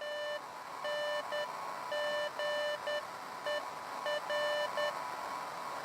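Walkie-talkie beeps in the video game Beacon Pines, a steady pattern of short and longer electronic tones like Morse code repeating over a constant background hiss, no voices.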